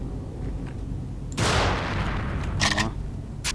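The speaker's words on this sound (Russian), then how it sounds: "а если я сейчас в баллон выстрелю?" A gunshot fired at a gas cylinder in the video game Bloodline: a loud, sharp blast that rings out briefly, followed by two shorter bursts a moment later.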